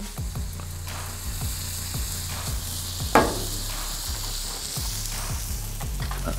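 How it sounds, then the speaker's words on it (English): Smash burgers sizzle on a Halo Elite4B griddle, a loud steady frying hiss under a string of sharp metallic spatula scrapes and taps, with one louder clank midway. "This will also tell us how well this griddle recovers too after cooking two on there."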